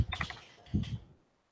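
Keys on a computer keyboard are struck in two quick bursts of clacking taps, close and moderately loud, before falling silent.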